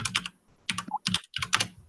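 Typing on a computer keyboard, three quick clusters of crisp clacking keystrokes separated by short pauses, close and fairly loud with no voices.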